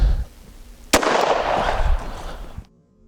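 A .32 ACP Underwood Extreme Defender round fired into clear ballistic gel, a single sharp close gunshot followed by a loud ringing roar that cuts off, with no talking.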